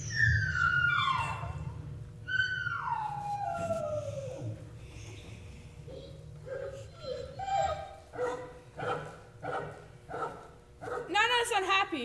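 On a community stage production of Peter Pan, an actor imitates a dog's barks and yips, a run of short vocal yelps with a whimpering rise, loud and close, heard alongside other voices and low stage hum.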